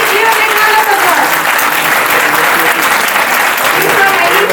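An audience at a results ceremony bursts into loud, sustained applause for a top-ranking student, dense clapping with no break.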